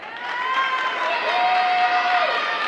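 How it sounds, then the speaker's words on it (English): Polite, scattered applause from home-team fans at a girls varsity high school basketball game in a gym, a brief steady patter of clapping with some crowd murmur under it. "And there's your golf clap from the Grover faithful."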